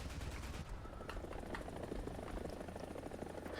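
An Mi-28NM attack helicopter in the War Thunder game gives a dense, loud, steady rotor and engine drone, with a few short sharp bursts that may be cannon fire breaking through, and no talking.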